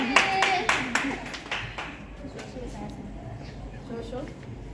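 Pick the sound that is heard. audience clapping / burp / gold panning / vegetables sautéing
audience clapping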